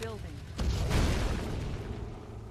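A single heavy artillery cannon shot fires in the real-time strategy game Red Alert, a deep boom bursting out and then rolling into a lingering rumble that slowly fades away, with a quieter lead-in before the blast.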